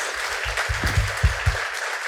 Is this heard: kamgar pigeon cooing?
no